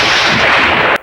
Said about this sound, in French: Niveau explosion, ils n'ont pas fait semblant.